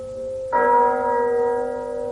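A single church bell strikes once, loud and close, its resonant tone ringing on and slowly decaying without fading out, with no voices, in a BBC radio adaptation of Dickens's A Christmas Carol.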